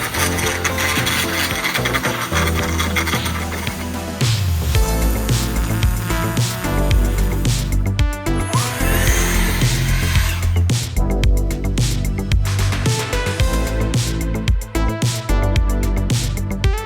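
A cordless lawn edger and leaf blower run in a long, steady, loud stretch of dense motor whine and rushing air, with brief dips and surges in level and no talking.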